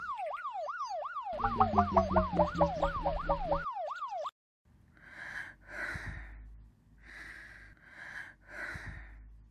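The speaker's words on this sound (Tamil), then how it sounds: "ஏதோ சைரன்." A police siren wails loudly nearby, rising and falling in a rapid yelp, then cuts off abruptly, followed by a breathy, snorting sound in short puffs.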